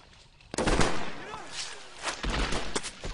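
Gunfire in a WWII Pacific combat scene at the dense grassy edge of a beach, with loud close bursts and cracks arriving in clusters over a rumbling battlefield background, alongside some speech.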